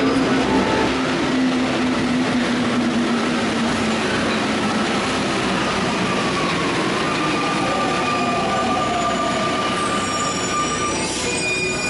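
A Paris Metro Line 4 train at Montparnasse Bienvenue station rumbles steadily with wheel squeal and rail noise, running loud and continuous without pause.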